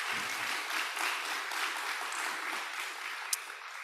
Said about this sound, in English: Let's give another round of applause to Dr.